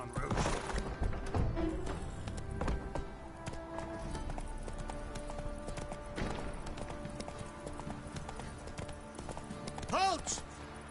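Roach, a horse in The Witcher 3, clip-clops along in a steady hoof rhythm under game dialogue and ambient sound.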